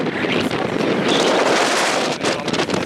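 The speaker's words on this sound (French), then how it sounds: "il y a vraiment beaucoup de vent" Strong wind during a tornado chase, with the funnel barely 100 meters above the ground, buffets the microphone in loud, rushing gusts that swell and dip over a few seconds.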